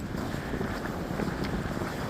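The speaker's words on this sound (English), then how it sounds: "Back out here on a very windy, chilly day." Steady gusting wind on a hiking trail in the Georgia section of the Appalachian Trail buffets the microphone, a low continuous rumble with slight swells, loud and close, with no voices.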